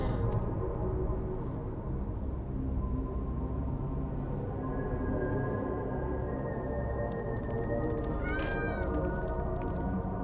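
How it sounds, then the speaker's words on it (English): A cat meows in the video game Final Fantasy XIV, a drawn-out cry followed by a short sharper meow near the end, over a low game ambience with faint background sounds. "Oh, the cat."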